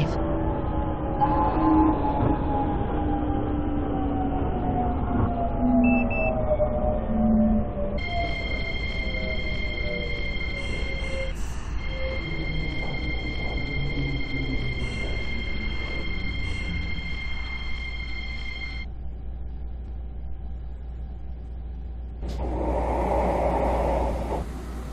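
A Line 1 metro train runs toward Hanam, rumbling continuously on the rails. A rising motor whine comes first, then steady high tonal hums, and the rumble swells again at the end.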